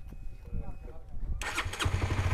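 After a moment of people talking, an automatic scooter's rebuilt engine cranks and fires up suddenly, settling into a rough, throbbing idle close by.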